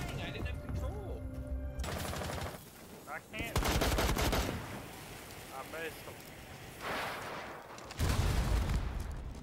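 Video game gunfire crackles in rapid bursts and fusillades, loud and close, broken by short gaps, while players talk over it.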